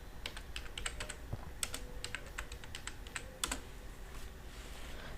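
Light, quick keystrokes on a computer keyboard entering a database username and password, a soft irregular patter of clicks with brief pauses, close and quiet.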